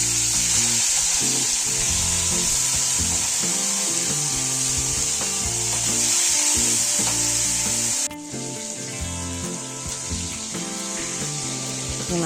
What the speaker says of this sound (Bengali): চিংড়িটা আমি ভেজে নেব।